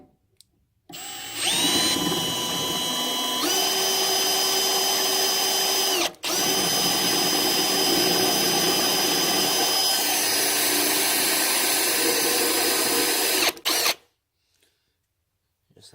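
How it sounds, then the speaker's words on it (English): A power drill with a 3/16 bit bores out a rivet on the oil pan of a 2002 Chevy Silverado 5.3L, a loud close whine that shifts pitch, pauses briefly, resumes and then stops. "So I'm just gonna take a 3/16 drill bit and just drill it out."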